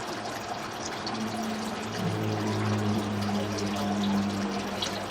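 Water runs steadily from taps somewhere in a house, a continuous pouring and trickling wash with a low hum that swells slightly partway through, heard alone at moderate distance.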